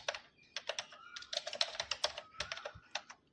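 Fast, irregular clicking of keys on a computer keyboard during data entry into an MS Excel spreadsheet, close and fairly quiet, with bursts of keystrokes and short pauses and no voice over it.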